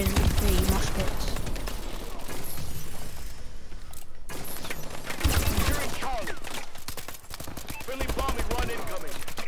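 Rapid automatic gunfire from the Ohm gun in a video game, a dense continuous clatter of shots running almost throughout, with a player talking over the in-game action.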